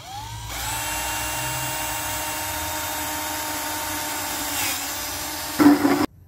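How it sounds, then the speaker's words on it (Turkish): A power drill with a hole saw bores a 4.5 cm hole through a caravan wall for a TV socket, giving a steady, loud whine for several seconds that ends in a short grinding burst before stopping. "Buradan deliyorum."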